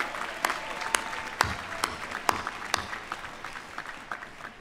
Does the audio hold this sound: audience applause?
yes